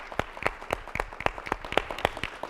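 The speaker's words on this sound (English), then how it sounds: "Let's give them a round of applause" A small audience at a live music event gives a round of applause, scattered individual claps ringing out close and distinct in an uneven rhythm rather than a dense roar.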